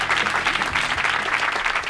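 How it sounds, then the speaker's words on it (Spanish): A studio audience at a comedy show bursts into dense, loud applause, the clapping continuous and close throughout. "¡Fuerte aplauso para Judas Iscariote!"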